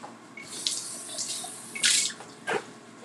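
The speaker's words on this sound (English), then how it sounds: "let me just rinse this out" An eyedropper is rinsed under a kitchen tap in short splashy bursts of running water, three or four brief gushes close by against a quiet room, with no speech.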